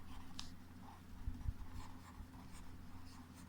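Writing on a board in a maths class, soft scratchy strokes and light taps in a steady rhythm, faint against a low hum with no talking.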